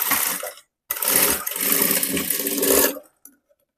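A sewing machine running a double line of stitching on a blouse strip, loud close whirring in two bursts with a brief pause between, then stopping.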